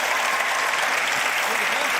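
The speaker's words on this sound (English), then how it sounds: "Yeah, that is worth clapping for." Church congregation applauding during a service, a steady full wash of many hands clapping at once, sustained and even from start to finish with voices faintly mixed in.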